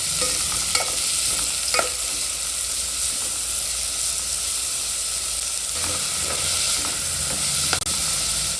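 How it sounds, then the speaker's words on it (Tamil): Shallots, garlic, green chilli and ginger are stirred in hot oil with mustard seeds and curry leaves for a Nagercoil-style chicken curry, producing a steady loud sizzle broken by a few sharp utensil scrapes, close, with no talk. "வெட்டின சின்ன வெங்காயம், வெளுத்துள்ளி, பச்சை மிளகாய், இஞ்சி நல்லா கிண்டி விட்டுக்கணும்."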